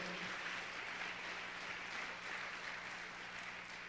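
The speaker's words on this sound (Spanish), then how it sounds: "¿Le puede dar un fuerte aplauso a Dios?" Applause from a church congregation during a Spanish-language sermon, a soft, steady patter of many hands clapping at a distance under a faint low hum, fairly quiet and even throughout.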